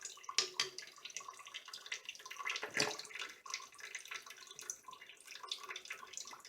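Hot water poured into a small container while measuring for silver refining, a faint, uneven splashing trickle with drips and gurgles running continuously and close up.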